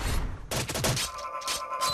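A harpoon gun fires in the Happy Wheels video game amid a loud burst of game effects, sharp cracks and thumps crowding together over about two seconds.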